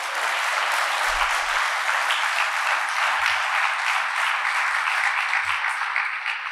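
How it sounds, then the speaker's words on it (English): A large audience at a children's and young adults' book awards ceremony in New Zealand applauds Matua, sustained dense clapping holding steady throughout before easing slightly at the end. "Can we give him another round of applause?"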